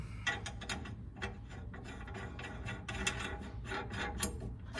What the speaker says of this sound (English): So I'm just going to put these nuts and bolts on